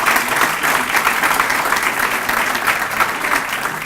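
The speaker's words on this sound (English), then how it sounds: "would you give Grace a nice round of applause for her leadership on this?" Audience applause at a city justice center grand opening ceremony, a steady dense wash of many hands clapping together for nearly four seconds, loud and sustained without a break.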